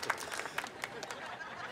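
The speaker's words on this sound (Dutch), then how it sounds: "Mag ik een groot applaus, mensen?" A studio audience breaks into applause at a crowning ceremony for a cheese-rolling contest, scattered sharp claps over a soft crowd wash, faint and a little distant, with voices mixed in.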